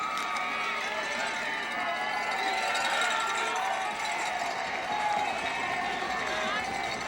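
A football stadium crowd at a Colgate versus CCSU college game in 2005 sends up a steady, distant roar, with a commentator talking over it throughout.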